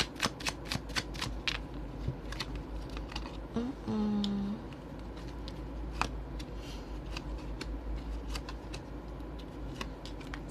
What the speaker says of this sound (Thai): ทีนี้แม่หมอเนี่ยเขาเปิดไพ่อีกสำหรับหนึ่งให้นะคะ